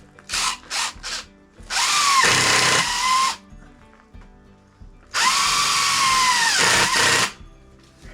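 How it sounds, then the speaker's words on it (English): An impact wrench with a nut driver drives an impact screw into a shelter post: a few short buzzing bursts, then two long, loud, close whirring runs separated by a pause. "I have a nut driver on my impact wrench with this impact screw"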